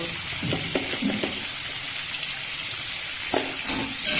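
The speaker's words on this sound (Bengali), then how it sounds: "দিয়ে আলুটা ভালো করে ভেজে নিচ্ছি" Potatoes frying in mustard oil with salt and turmeric in a wok, a steady close sizzle broken by several short scraping stirs of a spatula.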